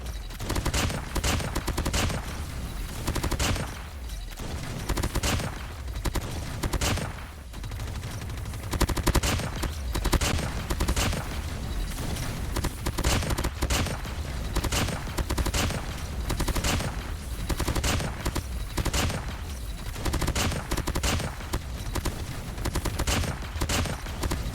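The Peacekeeper gun in COD Mobile fires in rapid, sustained bursts, sharp automatic shots repeating densely throughout with brief gaps between volleys, loud and close with no talking.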